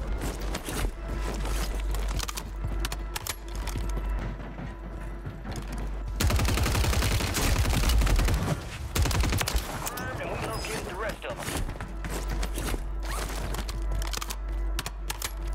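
Gunfire in Call of Duty on Rebirth Island, including Sidewinder fire, rattling in dense bursts through the whole stretch and swelling loudest midway, with a player talking over the shooting.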